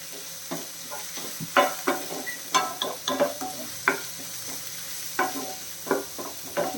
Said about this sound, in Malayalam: പച്ചമുളക് ഇഞ്ചി എല്ലാം കൂടെ ഒന്ന് വഴറ്റി വെക്കാം